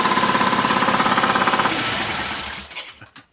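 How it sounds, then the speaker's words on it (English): A Triumph T140 motorcycle engine running out of petrol pulses in rapid, even beats, then falters and sputters unevenly before dying into a few stray pops, all close and fairly loud. "Running out of petrol at that point, and it was sending the carbs a bit crazy."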